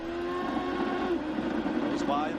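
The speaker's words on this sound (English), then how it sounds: "you can hear that engine going da-da-da-da-da, sounding really rough there" A CART race car engine idling roughly on the pit lane speed limiter at Portland in 1997 gives a rapid, stuttering buzz with uneven pulses, heard under a commentator's voice.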